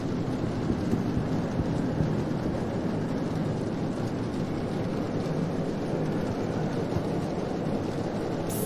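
Thunder during a lightning storm in the Roblox game DOORS, a dense, steady roaring rumble that stays loud and broad throughout with no clear separate claps and no voices.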